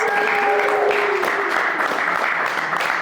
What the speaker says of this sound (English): Let's give the sales team a round of applause